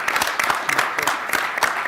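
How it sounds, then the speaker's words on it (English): An audience at a members' meeting claps in a dense burst of applause, close and fairly loud, with no talk over it. "Can I ask for a round of applause for Rob and his efforts over the years?"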